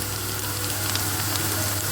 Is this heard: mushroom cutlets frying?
yes